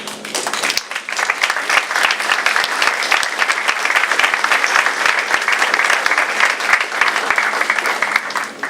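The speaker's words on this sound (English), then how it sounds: "would you please kindly rise for a round of applause?" Loud, dense applause for Pamlico Community College faculty and staff at a prison program celebration, sustained crowd clapping close by and nearly uninterrupted.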